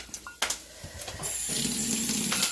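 Water poured into a pan of grits on the stove, a steady splashing pour that starts about halfway through after a few soft kitchen clatters.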